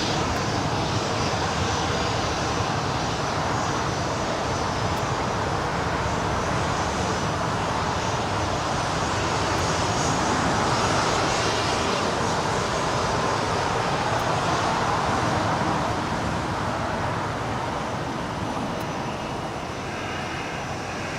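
A heavy jet airliner roars down runway 25 right at LAX on takeoff, a broad continuous engine rumble holding steady and loud for over twenty seconds and easing slightly toward the end, with no voices.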